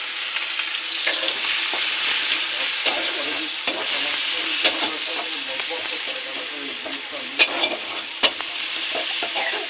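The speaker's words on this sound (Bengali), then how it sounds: "এবার পেঁয়াজটাকে বেরেস্তা করে নেব।" Sliced onions sizzle steadily in hot oil while being stirred and browned for chicken biryani, a continuous close crackle with occasional sharp scrapes of the spoon against the pan.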